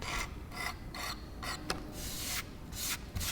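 Old surface coating being scraped and rasped off wood, a series of rough, close strokes in an uneven rhythm with short pauses between them.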